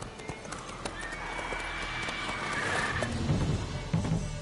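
Geralt's horse Roach from The Witcher game, with hooves clip-clopping in a steady run and a whinny over a low ambient game backdrop.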